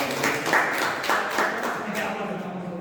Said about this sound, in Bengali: ওনার জন্য একটু হাততালি দেন।